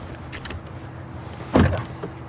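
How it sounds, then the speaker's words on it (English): Car power door locks engaging, a short loud mechanical clunk burst mid-clip after faint rustling and handling noises inside a car cabin. "Power door locks, standard, of course."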